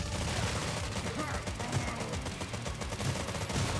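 Gunfire from a gun in a video game rattles in dense, rapid bursts that run the whole time, a steady loud clatter.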